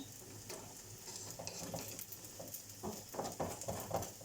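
Potato börek fries in an oiled pan with a soft, continuous sizzle, faint crackles and small pops close by, and no talking.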